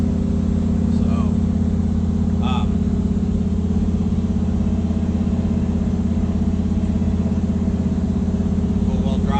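Steady, deep rumble of a 1966 Chevy truck with a 502 Ram Jet V8 and 400 Turbo transmission cruising down the road, a constant low drone heard from inside, with a few faint background sounds.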